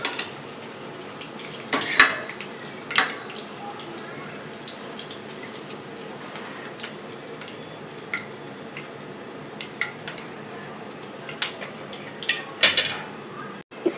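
Fried cabbage and onion pakoras lifted out of a pan of oil, with scattered clinks of a metal utensil against the pan over a faint steady background hiss.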